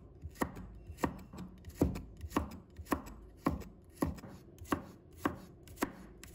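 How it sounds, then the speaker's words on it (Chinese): Knife slicing garlic cloves into thin pieces on a cutting board, a steady series of about a dozen crisp, evenly spaced chops that sound close and fairly loud, with no voices. "接下来我们准备1把大蒜，把它切成片。"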